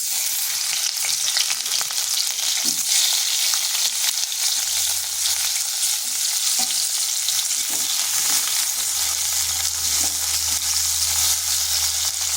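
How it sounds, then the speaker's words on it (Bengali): Cut potatoes sizzle in a little oil in a wok, a steady close frying hiss with occasional stirring scrapes and a low hum underneath in the second half. "আলুগুলোকে একটু ভেজে নেব।"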